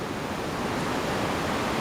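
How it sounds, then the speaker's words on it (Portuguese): Waterfall at Ponte João Neri in Poços de Caldas, Brazil, a constant dense rushing roar of falling water, steady and close with no pauses or voices. "a cachoeira aqui da Ponte Jonelli."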